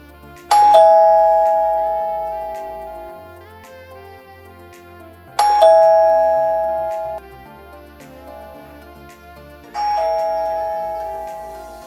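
A doorbell camera chime rings three times when a visitor presses the button, each a clear, bright tone that rings out and fades slowly before the next press, alone with no talk.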